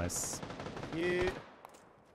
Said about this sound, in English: Are they shooting the dead body?